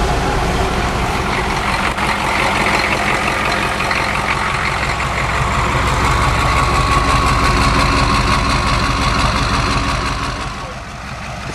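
A 1976 International Scout with a 6.5 turbo diesel engine runs steadily, a loud continuous low rumbling drone that eases off slightly near the end.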